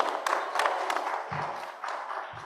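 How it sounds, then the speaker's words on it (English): Applause for a panel at a brand summit and awards event, a short burst of crowd clapping, moderately loud with a few thumps underneath. "How about a round of applause for this panel in particular?"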